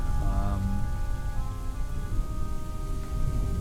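Steady rain patters in the video game Rise To Ruins, a dense even hiss over low rumble with soft tonal game music threaded through, continuous for the full length with no talk.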